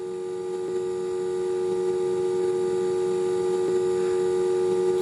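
Steady electrical idle hum from the Theophos SLS startup sequence, a continuous low drone with faint higher overtones holding at an even level throughout, alone with no voices.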